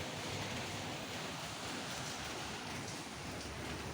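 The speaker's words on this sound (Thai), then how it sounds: "ได้ยินเสียงฝนไหมเอ่ย เสียงฝนตก" Steady rain falls on a rural garden house in Thailand, a dense, even hiss of broadband patter with no distinct drops, continuous and fairly close for the whole stretch.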